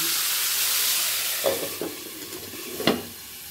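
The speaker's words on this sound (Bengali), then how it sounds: "তাই শুধু লবণ দিয়ে আমি ভাজতে ভাজতে সেদ্ধটা করে নেব, অবশ্যই ঢাকা দিয়ে।" Vegetables for a chhanar bora curry fry with only salt in a covered pan, giving a steady close sizzle and hiss with a few soft stirring scrapes and knocks; no one speaks.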